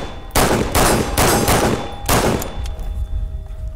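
A BR55 battle rifle fires loud, close bursts of rapid shots, four heavy volleys separated by short pauses, each fading into an echoing tail and quieter range noise at the end.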